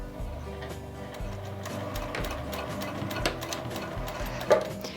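Sewing machine running steadily as it stitches around garment pockets at a 2.5 mm stitch length, a close, continuous mechanical whir with fine rapid ticking throughout.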